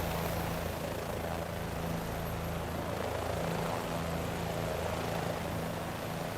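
A propeller-driven aircraft in Microsoft Flight Simulator 2020 takes off at the Freedom Factory, its engine holding a steady, loud, unbroken drone with no voices over it.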